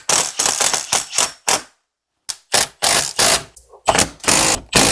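Ratchet tightening T-bolts that hold brake backing plates on the axle of a 1997 Camaro SS, a series of sharp close clicking bursts in quick strokes with a brief pause midway.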